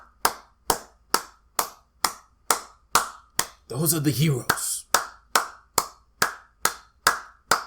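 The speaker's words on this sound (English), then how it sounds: "But we got people clapping." Rhythmic, evenly spaced clapping from a small group of people, sharp and close, continuing steadily with a brief burst of speech and noise in the middle.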